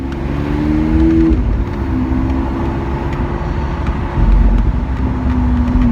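Italian sports car driving at a car day at RTC, a steady loud engine drone with a rising tone near the start and a brief surge later, heard from inside over continuous road noise.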